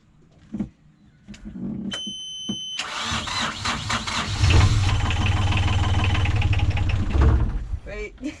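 A boat engine starter cranks after a few clicks and knocks, and the motor churns roughly for several seconds with a voice talking faintly underneath.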